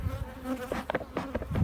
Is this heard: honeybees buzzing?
yes